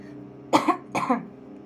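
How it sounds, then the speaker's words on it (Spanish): Two short, harsh coughs in quick succession, close and fairly loud, with quiet room tone around them. "Yo sé que siempre estoy tosiendo mientras hago los videos"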